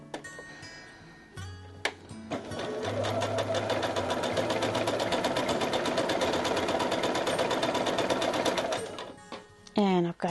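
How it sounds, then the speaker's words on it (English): A sewing machine runs a steady, rapid stitching burst across a bow tie quilt block seam for several seconds, loud and close, with a person speaking before and after the run. "So I always sew down with the seam allowance downward."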